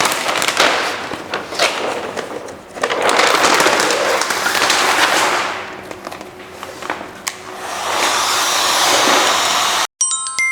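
Heat gun blowing on vinyl wrap film over a front door, a loud steady airy hiss that swells and dips with a few clicks and taps and a sudden cutoff near the end.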